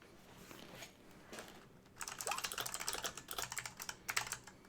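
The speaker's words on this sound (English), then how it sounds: "Dragon's typing." Rapid clicking of a computer keyboard being typed on, close but fairly quiet, starting in scattered taps and then building into a dense, busy burst of keystrokes with short pauses.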